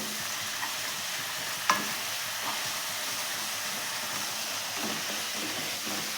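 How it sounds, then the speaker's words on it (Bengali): Spice paste for a poppy-seed potato curry fries steadily in a pan with yogurt and water added, a continuous close sizzle with a few soft scraping stirs and one sharp clink of the spoon. "দিয়ে মশলাটা খুব ভালো করে কষবো।"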